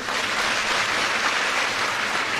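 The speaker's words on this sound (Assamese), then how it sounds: "আপোনালোকে এটা ডাঙৰ হাত চাপৰি বজাই দিয়ক" An audience at an Assam government Lakhpati scheme event applauds for a minister and department officials, a dense, steady wash of clapping that holds at an even level throughout.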